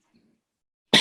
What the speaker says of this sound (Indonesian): Batuk gua.